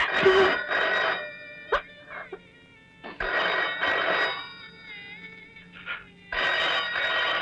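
A telephone bell rings in repeated bursts with short pauses between, loud and close, in a quiet domestic interior with no talking.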